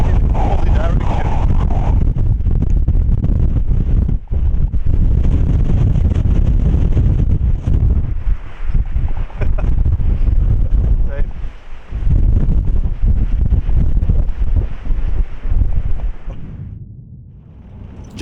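Strong wind in Iceland roars and buffets the microphone continuously, with gusty rumbling and faint surf underneath, easing briefly near the end.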